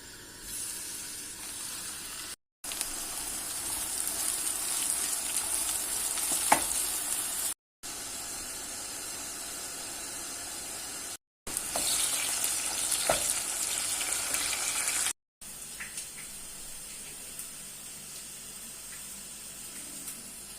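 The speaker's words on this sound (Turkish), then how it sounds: "patlıcanlarımızı kızartmaya başlıyoruz" Steady sizzling of eggplant frying in hot oil, a constant crackling hiss that continues throughout with a few abrupt cuts.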